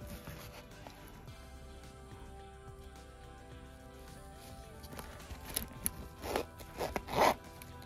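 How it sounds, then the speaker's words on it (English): A zipper is pulled open on a bag in a few short scratchy runs, close and fairly quiet, ending in a couple of louder zips. "The zipper works fine."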